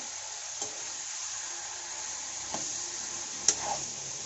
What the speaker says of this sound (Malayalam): ഇത് നല്ലപോലെ ഇളക്കുക, ഒന്ന് ഫ്രൈ ചെയ്യണം.